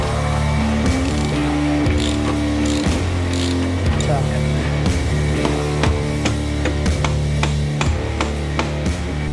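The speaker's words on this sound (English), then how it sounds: "let's get this rear wheel off" Hand tools work on a Harley Davidson motorcycle during rear wheel removal, giving repeated close ratchet clicks and metallic clanks while someone talks throughout.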